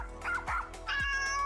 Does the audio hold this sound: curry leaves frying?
no